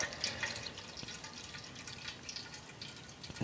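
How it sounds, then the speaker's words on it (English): Wort trickles slowly into a brew kettle while sparging a Pilsner grain bed for a Kölsch, a faint, steady watery splashing and dripping running throughout without talk. "We leave the wort running slowly down into the brew kettle, and we have water flushing over the grain bed."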